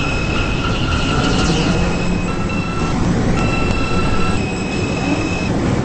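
A Roblox R160 subway train on the M line rumbles and rattles steadily along the rails, with a faint high squeal of wheels and tonal hums throughout.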